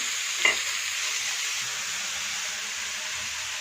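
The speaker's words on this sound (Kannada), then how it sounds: "ಆನಿಯನ್ನು ಸಣ್ಣದಾಗಿ ಚಾಪ್ ಮಾಡಿ ಇಟ್ಕೊಂಡಿರೋಂಥ ಆನಿಯನ್ ಆ್ಯಡ್ ಮಾಡ್ಕೊತಾ ಇದ್ದೀನಿ." Finely chopped onion frying in a pan with curry leaves for paneer fried rice, a loud, even hissing sizzle throughout with one brief clink of a utensil near the start.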